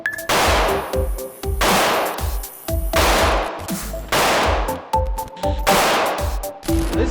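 A CZ P-07 9mm pistol fires at an indoor shooting range: about eight sharp, loud shots in quick, fairly even succession, each cracking close by and trailing a short echo.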